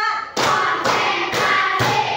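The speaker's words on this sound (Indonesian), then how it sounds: "Tepuk 1, tepuk 2, tepuk 3, tepuk 4" A class claps together in time, roughly four broad, loud, evenly spaced bursts of clapping with brief pauses between them, no voices heard.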